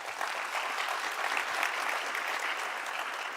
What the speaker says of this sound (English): Let me welcome you with a round of applause from your own youth leaders.